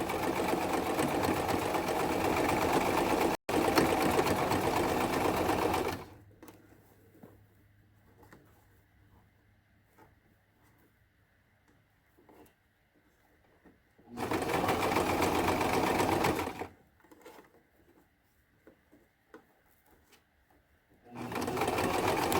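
Sewing machine back-stitching while making a wig: loud, steady motor whirring in bursts of several seconds, broken by quieter pauses with faint handling sounds, close up and without talk.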